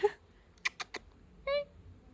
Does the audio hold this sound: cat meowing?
yes